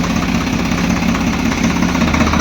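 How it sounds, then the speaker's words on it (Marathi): A tractor engine runs at a steady idle, loud and close, with a continuous low knocking throb and no pauses. "हळूहळू हा एक लच इकडं हा एक लच इकडं लच हळूहळू सोडला का ट्रॅक्टर पुढे चालायला"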